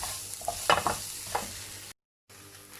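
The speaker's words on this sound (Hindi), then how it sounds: "इन्हें बहुत अच्छे से मिक्स कर लेंगे" Pizza sandwich filling being stirred and mixed with salt and black pepper powder, a few close scraping and clinking strokes over a soft background hiss, then a brief dropout.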